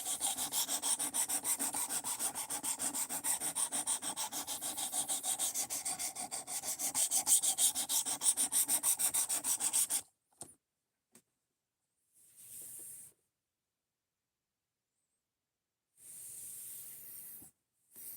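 Rhythmic rubbing strokes of 220-grit sandpaper hogging off material, a dense scratchy hiss for about ten seconds, followed by a few short, isolated sanding passes separated by silence.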